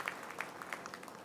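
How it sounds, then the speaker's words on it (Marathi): An audience at a media association's state convention in Shirdi claps briefly, a faint, distant patter of many hands with no talking. "याच्यासाठी एकदा जोरदार टाळ्या वाजून आपण कौतुक केलं पाहिजे."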